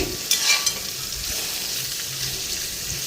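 Food sizzles steadily as it fries in a pan in a home kitchen, with a couple of brief stirring scrapes near the start and constant crackling hiss throughout, no talking.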